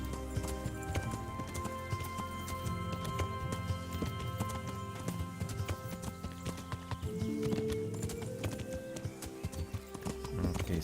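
Horse galloping in the video game Kingdom Come: a steady, rhythmic clip-clop of hooves on a road, fairly close and continuous, with game music and ambience underneath and a brief whinny.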